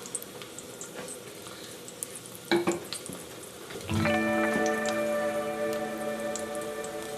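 Garlic sizzles in oil in a pan for a simple pasta sauce, a crackling fry with scattered pops and a louder clatter midway, after which the frying grows fuller and steadier alongside a faint tonal hum.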